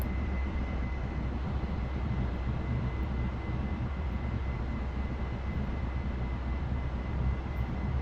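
An aircraft taxiing across grass in the DCS flight simulator, a steady, even engine drone with a faint high whine, constant and moderately quiet throughout, no talk.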